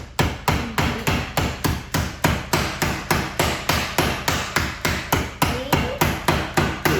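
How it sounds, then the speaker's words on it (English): A kitchen mallet pounds a chicken fillet inside a bag for schnitzel, striking in a fast, steady series of loud, sharp thuds, about two hits per second, close and with no voices. "Then with our kitchen mallet, I'll show you"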